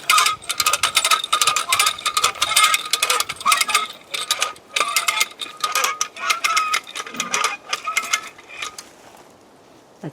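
Ratchet tightening a chain wrapped around a tree, rapid clicking and metallic rattling in quick bursts, close and fairly loud, easing off toward the end.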